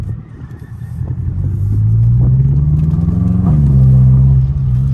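A turbocharged car engine drones low and fairly loud while driving, rising in pitch as it pulls, dipping briefly near the end and then holding steady, with no talk over it.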